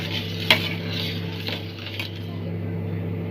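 Milk with sugar being stirred slowly in a pan for a bread malai roll dessert, with a soft clink of spoon against metal near the start and faint scraping over a steady background hum.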